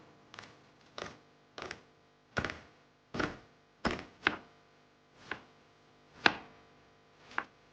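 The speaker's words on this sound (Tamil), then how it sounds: "முதல்ல வெங்காயத்த வந்து ஆ நீளமா பிரியாணிக்கு வெட்டுற மாரி வெட்டிக்கோங்க." A knife slices large onions into long strips for biryani, with about a dozen crisp, separate chops on a board at an even, unhurried pace, close and clear with no talk.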